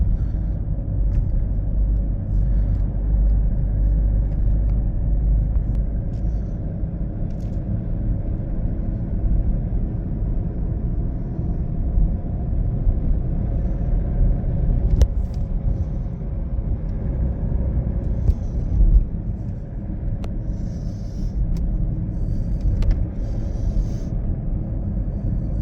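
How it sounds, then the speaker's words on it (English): Steady low engine rumble and road noise from a Hyundai i30 1.6 CRDI diesel car cruising smoothly, a continuous even drone with no speech and only small shifts in level throughout. "As you can see, the vehicle is driving nice and smooth."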